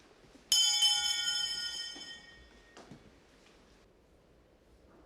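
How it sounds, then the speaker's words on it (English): Eiheiji temple bedtime bell (kai-chinrei) struck once, a clear metallic ring with long shimmering decay, followed by a fainter second tap in a quiet hall. "The kai-chinrei, or bedtime bell, is rung at 9 p.m."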